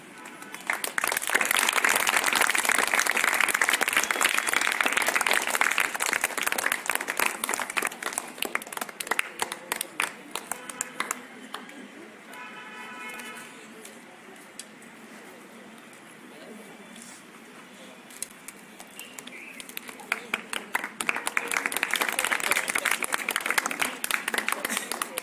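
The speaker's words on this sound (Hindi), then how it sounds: "बच्चों से कहे दरख्वास्त है कि ज़ोरदार तालियां बजाएं।" Loud applause from schoolchildren at a quiz programme at Subhania High School in Itwari, Nagpur, sustained at the start, dropping to a quieter stretch in the middle, then swelling again toward the end.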